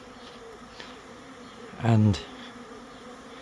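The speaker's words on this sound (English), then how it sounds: "it is packed full of bees" Honey bees in a packed Layens horizontal hive give a loud, close burst of buzzing near the middle, with fainter buzzing around it and brief speech.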